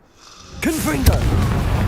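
The Confringo spell exploding in the video game Hogwarts Legacy: a whooshing cast with a rising-and-falling magical tone, then a sharp, loud blast and a sustained rumbling roar.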